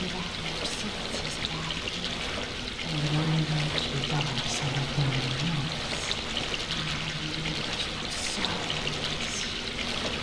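Water flows steadily through a passage in the video game Dark Souls, a continuous pouring and trickling wash with a louder gushing stretch in the middle, moderately close and fairly even.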